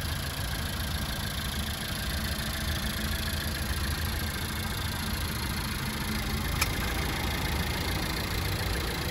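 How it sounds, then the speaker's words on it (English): A 2017 Suzuki Vitara's engine idles steadily with its hood open, a constant, even hum that stays level throughout with no talk over it. "I've got the car currently running, so at least you can hear it"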